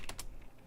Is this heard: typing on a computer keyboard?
yes